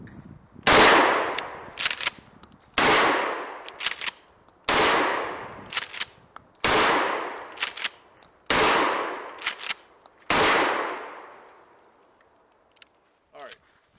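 Five loud rifle shots ring out at an outdoor range, each a sharp crack with a long decaying echo, spaced about two seconds apart, with metallic clinks and small handling noises between them and a faint click near the end.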